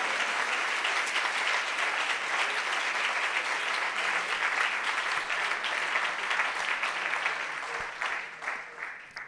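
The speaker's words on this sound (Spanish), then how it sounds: "Denle un aplauso a la presencia del Señor." A church congregation applauds the presence of the Lord during a Sunday school service, a dense, steady wash of clapping that holds strongly for about eight seconds before thinning and fading at the end.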